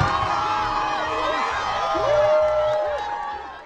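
Local villagers cheer and clap in a busy outdoor crowd at Kawo Village, Southern Highlands, while a vote is cast, with whoops and shouts layered over steady applause that swells slightly midway.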